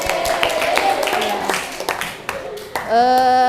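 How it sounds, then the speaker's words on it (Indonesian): A class of students claps in a classroom after a lesson: a short burst of fairly close, scattered applause that thins out, followed by a voice speaking at the end. "Tepuk tangan."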